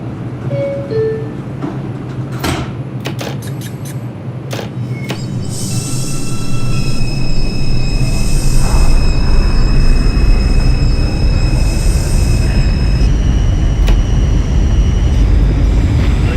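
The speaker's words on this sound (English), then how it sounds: "Stand clear of the closing doors, please." An R142 subway train on the 4 line bound for Woodlawn, in the OpenBVE simulator, sounds its door chime tones, then the motors whine and rumble as it pulls away. The noise swells and holds loud and close, with no speech.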